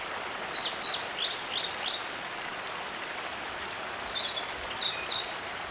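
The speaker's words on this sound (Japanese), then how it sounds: "小鳥のさえずり、" Small birds sing bright, quick chirping phrases in two bursts over a soft bed of outdoor ambience, with a pause between the phrases and no talking.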